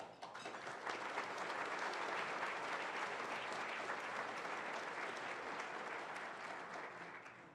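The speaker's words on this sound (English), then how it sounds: "Please join me in a warm round of applause for all of them" Sustained audience applause fills a civic forum hall, a dense steady wash of many hands clapping at an even level for about seven seconds before easing slightly at the end.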